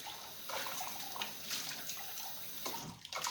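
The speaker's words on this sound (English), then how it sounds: "I have to wash out these plates first before I start cooking." Dirty plates are washed under running tap water before cooking, with a continuous close stream, splashes and occasional clinks as the dishes shift under the flow.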